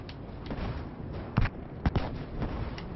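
Two short muffled shots pop about half a second apart over a steady low rumble of battlefield noise in a sniper video game.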